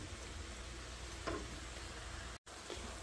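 Lean ground beef sizzles faintly in a pan as it browns, a soft steady crackle with a couple of light stirring scrapes and a brief dropout.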